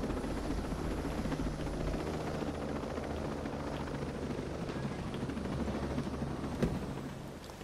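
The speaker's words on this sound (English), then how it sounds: "Now we're gonna land the helicopter" A helicopter in Ghost Recon Breakpoint comes in to land, its steady rotor and engine drone filling the whole stretch at a constant, moderately close level, with one brief thump near the end.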